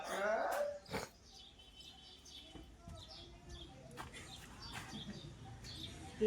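A dog whines and yelps briefly at the start of a family Holi colour celebration outdoors, then fainter sounds follow with birds chirping and people in the background.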